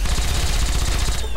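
Rapid automatic gunfire from Fallout 3 rattles in a dense, loud burst of closely spaced shots, continuous for about a second before cutting off.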